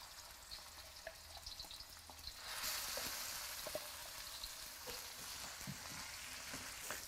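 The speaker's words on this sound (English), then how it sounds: "It's going to take some time to fry them until fragrant" Spice paste fries in vegetable oil for acar awak, a soft, even sizzle that swells after a moment and continues steadily with small crackles and pops, faint and close.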